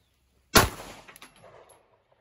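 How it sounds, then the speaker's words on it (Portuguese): A single loud 9mm pistol shot fired during an ammunition test at a 10-metre range, loaded with Imbel Tucano powder and a 125-grain projectile: one sharp crack with a short ringing tail, then a faint clink, in an otherwise quiet setting. "5 disparos, 10 metros."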